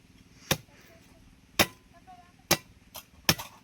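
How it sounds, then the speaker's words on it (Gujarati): A coconut is chopped open with a blunt blade in four sharp, separate strikes spaced about a second apart, each a loud close crack with a short ring-off and quiet gaps between. "સરસ મજાનું નારિયેળ કાપે છે"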